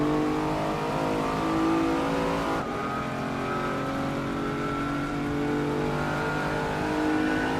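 A 1995 Audi RS2 Avant racing in a video game gives a continuous loud engine drone with shifting revs, steady and close throughout with a slight dip midway and no talking.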